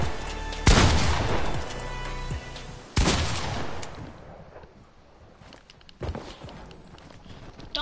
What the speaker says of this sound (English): Shooting automatically.